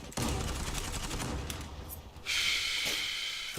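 M4 rifle fire in the online shooter Zula, a dense burst of rapid automatic shots up close, breaking briefly before another loud volley with ringing echo.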